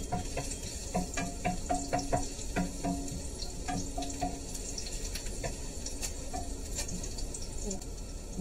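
Garlic sizzling in normal cooking oil in a pan at the start of a Filipino sotanghon, a steady close frying crackle with scattered sharp pops and clinks, with no speech.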